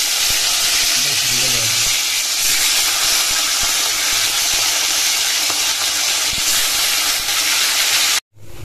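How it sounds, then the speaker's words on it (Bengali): Fish heads fry loudly in hot oil, a dense continuous sizzle and hiss filling the kitchen, with faint talk underneath before it cuts off abruptly at the end. "এই দেখো মাছের মাথা ভাজা হয়ে গেছে।"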